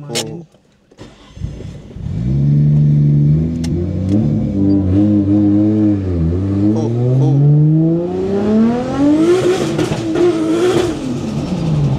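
A Nissan Skyline R34 GTR engine cranks, catches and revs hard, the pitch climbing and dipping through several loud, sustained sweeps up close, with a brief exclamation at the start.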